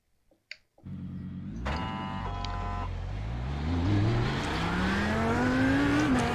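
Audi R8 LMS GT3 race car in the iRacing sim, its engine cranking into a loud, steady idle and then revving up in rising pitch sweeps as it pulls away.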